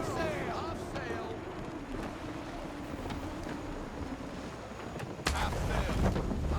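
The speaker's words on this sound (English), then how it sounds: "Rogue wind!" Wind rushing over a sailing ship at sea in a video game, a faint, steady blustery whoosh with creaking and water wash, a louder gust near the end, while voices call out in the background.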